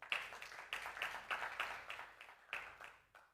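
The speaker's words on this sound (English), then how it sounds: "A hand of applause." Faint, scattered hand clapping from the audience at an annual general meeting, a thin patter of claps rising and fading across a large room.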